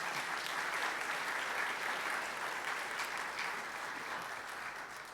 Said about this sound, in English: let's give our 3 new Rotarians a round of applause.